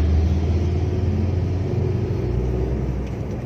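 A car engine hums steadily with low rumble and road noise while the car drives along the ring road in Jogja, heard from inside the cabin, constant and fairly loud with no talking.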